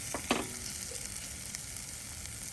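Boiled eggs in masala frying in a pan, a soft, low sizzle with one brief scrape or clatter near the start, then a quiet steady hiss.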